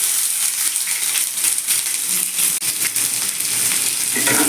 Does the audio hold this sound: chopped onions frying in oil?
yes